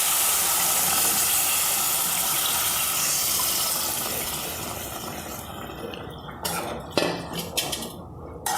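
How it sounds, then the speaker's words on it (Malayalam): Milk pours into a simmering pot of salted mango curry, a loud close hiss of liquid that fades gradually, followed by a few light clinks of utensils. "ഇനി നമുക്ക് നമ്മൾ എടുത്ത് വെച്ചിരിക്കുന്ന പാലൊഴിച്ച് കൊടുക്കാം"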